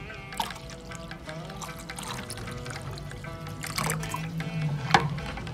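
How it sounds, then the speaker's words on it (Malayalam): Water pours onto jaggery to make panakam, a traditional drink. The trickle is quiet and swells briefly toward the end, with small clinks. "ഇനി നമുക്ക് വെള്ളം ഒഴിക്കാം"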